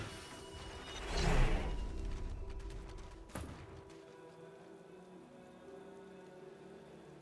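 In the video game Divinity: Original Sin 2, a burst of rain-like patter swells early, a sharp thump cuts in, then a steady softer wash of falling drops continues to the end.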